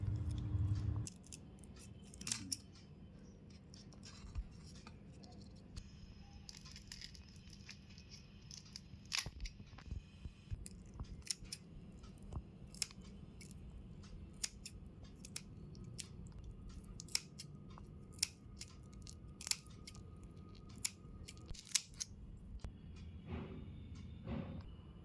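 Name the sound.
cutting and cleaning prawns with scissors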